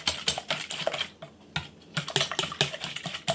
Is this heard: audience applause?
no